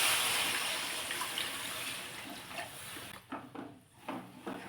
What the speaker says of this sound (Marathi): आता यामध्ये घालायचं आहे पाणी.